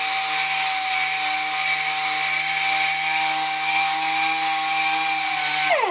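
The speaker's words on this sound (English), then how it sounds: "Now with the DA sander, it's been rough grinded to get close to the ultimate shape" A pneumatic DA orbital sander smooths a copolymer seam that has been rough ground close to shape, running as a loud, steady high-pitched whine for several seconds before winding down at the end.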